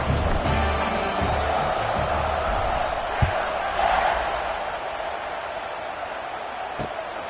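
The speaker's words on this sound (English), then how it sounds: "They're set to kick it off, and this crowd now ready to get behind them." A football stadium crowd roars steadily before a college kickoff involving Navy, a dense, continuous wall of cheering and murmur with a few sharp thumps and a brief swell midway.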